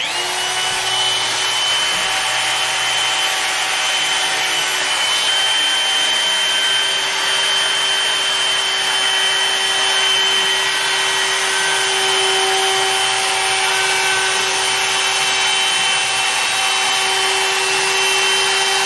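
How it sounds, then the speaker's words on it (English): Trim router fitted with a 1/8 inch round-over bit easing the bottom edges of wooden handrails, a loud, steady high whine with a constant grinding hiss through the whole stretch, close and uninterrupted, no speech. "I'm going to use the same trim router but with an 1/8 inch round over bit"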